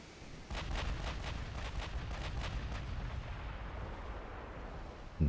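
Naval guns fire in a rapid salvo of about eight booming reports against light cruisers in a 1933-era naval warfare strategy game, the shots giving way to a sustained low rumble and a sharp thud at the end.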